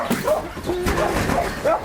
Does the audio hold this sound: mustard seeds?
no